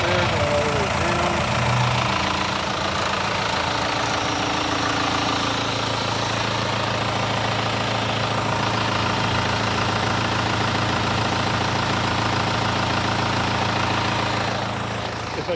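A Corvette small block engine with rod knock idles steadily for the whole stretch, a low continuous rumble with an uneven, knocking texture and a brief muffled voice near the start.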